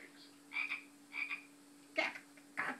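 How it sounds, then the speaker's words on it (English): A frog croaks in short raspy bursts, four calls spaced irregularly over a few seconds, fairly faint against a steady low hum, with no talking. "This is the sound a frog makes."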